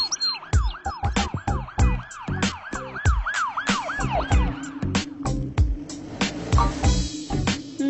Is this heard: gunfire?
no